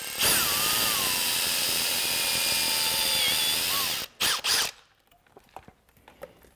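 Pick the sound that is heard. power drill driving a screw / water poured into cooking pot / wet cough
power drill driving a screw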